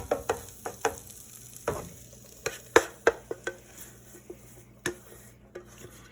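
A thin burger patty fries on a hot surface under a soft, steady sizzle, broken by a series of sharp spatula scrapes and taps at irregular intervals.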